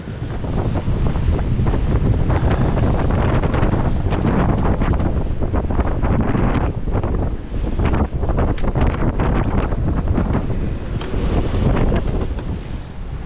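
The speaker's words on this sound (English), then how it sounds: "The wind is absolutely perfect, so I'm just leaving the sails as they are." Strong wind buffets the microphone continuously aboard a sailboat cruising around the Isle of Bute in Scotland, loud and roaring with gusty surges and water sounds beneath.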